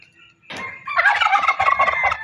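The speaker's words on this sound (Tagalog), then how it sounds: "Galit na naman yung pabo." A turkey gobbles loudly and close while feeding, a rapid burbling rattle lasting a couple of seconds after a brief sharp call.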